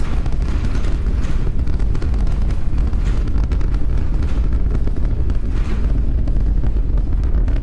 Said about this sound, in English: 33 out of 33 Raptor engines lit on the super heavy booster arcing away from us here at Starbase